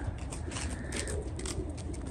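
Racing pigeons coo softly in a continuous murmur while being loaded into baskets for a 430 km race, with faint fluttering and rustling mixed into a busy background.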